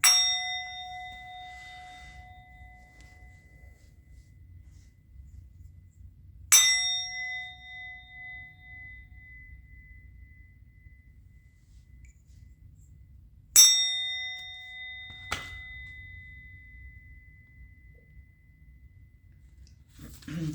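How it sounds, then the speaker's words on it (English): A bell is struck three times with long pauses between strikes. Each clear metallic ding rings out and fades slowly over a low, quiet room hum, and a softer tap follows the last strike. "I'm going to ring the bell."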